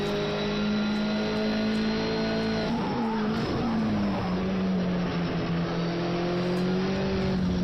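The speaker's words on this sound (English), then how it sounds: "that was a big stab of the throttle, and then I had to go off it as well" A racing car engine in a sim race at Brno holds a steady high whine, then dips and wavers as the throttle is stabbed and lifted, settling back into a sustained tonal drone, close and continuous.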